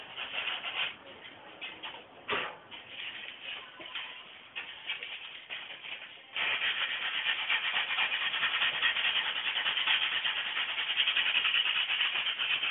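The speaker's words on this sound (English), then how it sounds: "This stuff sands pretty dang easy. Didn't take much to round off the edges." Sandpaper rubs steadily along the edges of wood trim for mausoleum windows, close and continuous, with brief pauses early on before a louder, unbroken stretch of scraping strokes.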